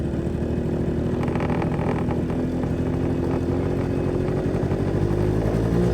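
Honda Dio AF34 scooter engine with carburetor being adjusted, a continuous close buzzing drone that rises slightly in pitch as the throttle opens from idle.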